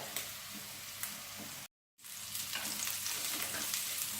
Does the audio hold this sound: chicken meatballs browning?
yes